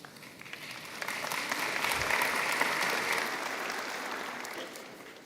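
An audience at a university Faculty of Environment graduation ceremony applauds steadily, a dense wash of clapping that swells and then slowly fades, with no voices over it.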